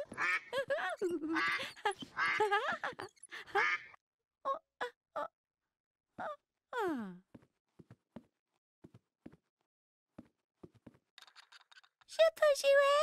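A plastic toy duck quacks in short squeaky bursts as it is pulled along by a string, spaced out with gaps between them, near and clear, with voices around the quacks.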